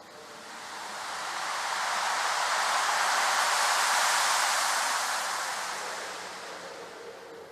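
Ocean waves wash in a broad, soft rush that swells to a peak and slowly recedes, heard alone as part of an interactive media art installation.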